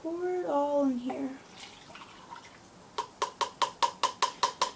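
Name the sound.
liquid being poured into a cup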